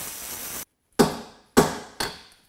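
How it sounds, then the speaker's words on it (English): Three sharp metallic hammer blows ring out one after another while a bearing sleeve is knocked off a Volkswagen stub axle in a workshop. A steady grinding hiss comes before the strikes. "Today I'm going to use a Dremel and just hammer it back off."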